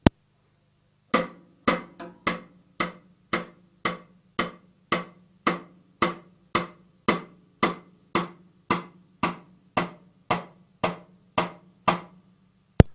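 Cross stick clicks on a snare drum ring out about twenty times in an even, steady rhythm, each a sharp woody knock with a short tail, played alone and close.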